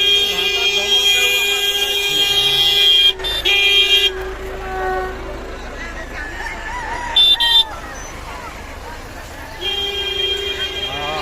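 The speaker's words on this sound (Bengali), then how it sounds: "এদিকে শুধু মুরগিগুলো রাখা আছে, কিছু কিছু রেখেছে।" Chickens and roosters kept beside a cockfighting area at the crowded Makuri fair in Budhpur, Manbazar, Purulia, with clucking and crowing under a busy, continuous crowd din, vehicle noise and horns, and a few louder bursts.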